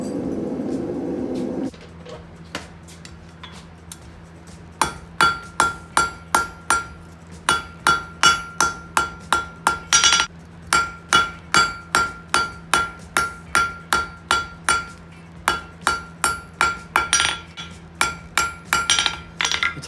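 Hot steel coat hooks are hammered on an anvil with a long run of sharp, ringing metallic strikes in a steady rhythm, close and loud, after a brief quieter stretch at the start.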